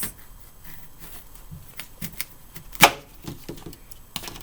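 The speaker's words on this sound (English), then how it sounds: "you can cut it in half like this" A knife cuts an apple in half, with the stem still on the fruit. There is a scatter of crisp clicks and small crunches, and one sharp, louder snap near the middle, all fairly close in a quiet room.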